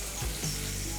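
Food frying in hot oil in a home kitchen gives a close, steady hissing sizzle with small pops and crackles, heard alone without talk.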